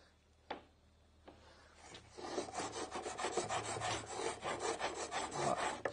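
HNT Gordon hand plane cutting a dado in a wooden drawer part, giving a run of quick rasping strokes in steady rhythm after two isolated knocks, close and fairly loud with no talking.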